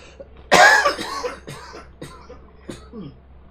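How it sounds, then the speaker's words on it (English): A man coughs hard and close, one loud burst followed by a few smaller coughs and throat sounds over a faint steady hum. "I feel some coughs coming on."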